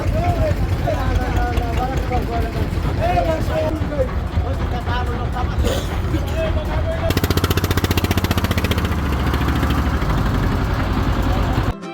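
A trawler ferry engine chugs steadily throughout while crossing at Rupsa ferry ghat, with people talking over it; the rhythmic engine thumping grows stronger and more prominent in the second half.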